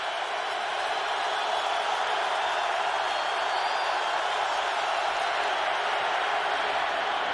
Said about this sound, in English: this crowd climbs back into it